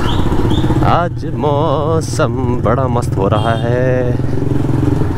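Motorcycle engine hums steadily through a bike ride, a continuous close drone with wind rush beneath someone talking over it.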